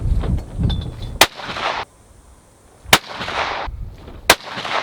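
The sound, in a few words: rifle shots fired with EC Tuner muzzle brake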